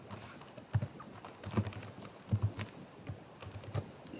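Typing on a computer keyboard: irregular clusters of soft close key clicks and taps with short gaps, recorded alone over faint room noise and no talking.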